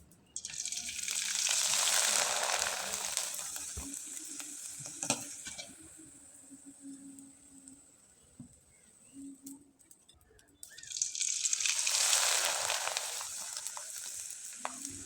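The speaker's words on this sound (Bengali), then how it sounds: "আমি আপনাদের কয়েকটা পিঠা তেলে ভেজে দেখিয়ে দিলাম" Syringe pitha cakes made with ripe palm pulp deep-frying in hot oil, a loud steady sizzle that fades out midway, leaving a quieter stretch with faint birds, then surges back strong near the end.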